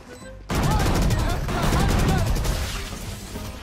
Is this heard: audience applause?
no